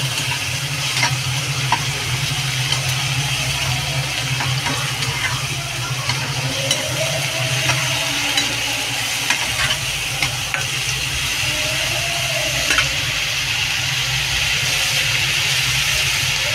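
Chopped onion, green chilli and spices frying in a pan, a steady loud sizzle throughout with occasional scraping stirs from a spatula, close up and continuous with no talk.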